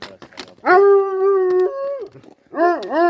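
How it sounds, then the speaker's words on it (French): A dog gives drawn-out, whining howls outdoors in the Aveyron countryside, one long sustained tone followed by a shorter wavering one, close and fairly loud. "Ah, tu grognes là?"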